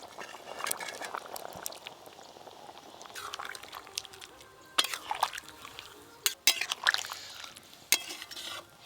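Fried potatoes go into a pot of simmering goat mutton curry, with soft bubbling, stirring and several sharp clanks of a utensil against the metal pot, close up and fairly quiet.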